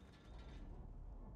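Locked door mechanism in the game Code Vein grinding and clicking open after a shoddy key is used, a steady low mechanical rumble with ratcheting creaks, fairly quiet and continuous.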